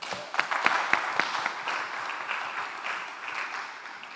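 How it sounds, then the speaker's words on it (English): Audience at a credit union's annual general meeting claps together, a dense burst of many hands that peaks early and then slowly thins and fades over a few seconds. "I think they deserve a clap."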